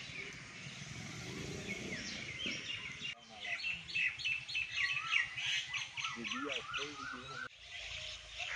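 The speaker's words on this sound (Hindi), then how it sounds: "यहाँ दरख्तों की और परिंदों की बहुताब है" Birds chirp and call among the trees at an old temple site in Gujranwala, a busy mix of tweets and squawks at moderate distance, with a faint passing vehicle and some voices in the background.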